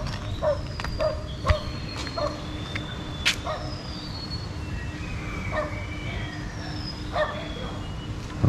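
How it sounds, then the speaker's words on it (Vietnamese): Several dogs bark and yip in short, scattered bursts at a moderate distance outdoors, some calls near and sharp, others fainter, over a steady background hum. "mấy con chó bảo vệ nó"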